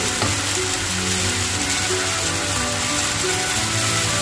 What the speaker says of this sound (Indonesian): Dan kemudian saya aduk-aduk lagi.